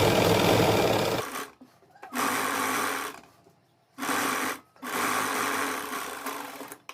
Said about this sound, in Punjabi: ਆਪਾਂ ਇਸ ਤਰੀਕੇ ਨਾਲ ਖਿੱਚ ਖਿੱਚ ਕੇ ਸਿਲਾਈ ਲਾਵਾਂਗੇ